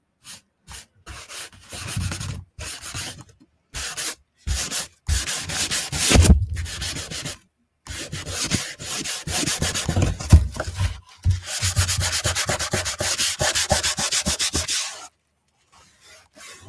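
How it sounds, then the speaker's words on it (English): A finger rubs paint off a handmade wooden standing sign with a spring bee design, making close, dry scrubbing strokes in short, repeated bursts separated by brief pauses. "And I'm taking off anything I don't want with my finger. Okay, so I'm kind of rubbing away from there."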